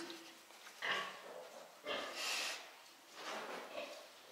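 Yorkshire sows grunt and snort at close range during their first farrowing, in three or four rough bursts spaced about a second apart.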